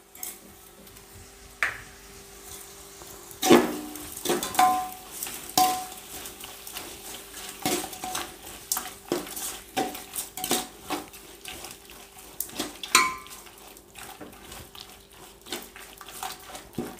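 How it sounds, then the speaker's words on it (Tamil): Tomatoes and salt being sautéed in a pan while making mushroom biryani, heard as a scattered series of clinks and scrapes from a utensil against cookware, with a faint sizzle underneath and no talk. "இப்போ தக்காளி போட்டுக்கலாங்க. அப்படியே கொஞ்சம் உப்பும் போட்டுங்க, வதக்கி விட்டுக்கலாங்க."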